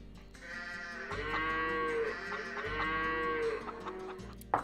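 Sheep in a medieval strategy video game bleat in long, wavering, nasal cries that overlap one another at moderate volume over a low steady background hum.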